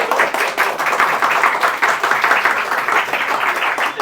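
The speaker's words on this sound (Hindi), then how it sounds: "ताली बजा रहे" Students in a classroom clap together in a steady, dense burst of applause that fills the room throughout, with no voices standing out.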